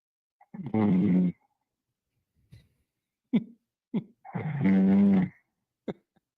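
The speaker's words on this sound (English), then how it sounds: "This guy's snoring on the line." A radio call-in listener on a phone line from suburban Illinois snores, two long, loud, rasping buzzes a few seconds apart, separated by short breathy snorts and clicks.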